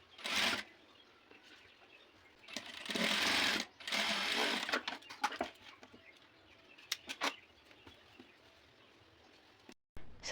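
A sewing machine stitching a blouse, running in several loud bursts of rapid mechanical whirring separated by pauses and a few faint clicks, close by with no talking.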